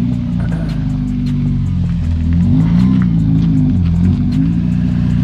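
A Nissan 240SX engine idles with a steady low rumble, then revs up and down as the car creeps forward, loud and close, with no talking.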